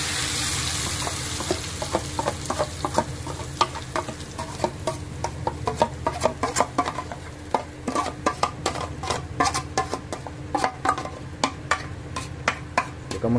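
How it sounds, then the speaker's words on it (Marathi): Ground masala paste for a prawn curry crackles and sizzles steadily in hot oil, with a dense run of small pops and spits throughout and no talking. "तर हा वाटण आपण टाकून घेऊया डायरेक्ट"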